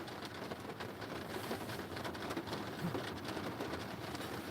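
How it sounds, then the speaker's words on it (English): Steady rain falls outside as a faint, continuous hiss with a soft patter, heard at a distance without any talking. "Y'all hear that rain? It sounds good,"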